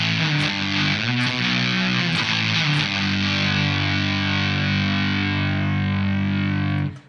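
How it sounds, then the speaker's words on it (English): A thick, heavily distorted power chord through a Fuzz Face pedal, struck several times and then left to ring out before cutting off. "So you hit a power chord on a fuzz face,"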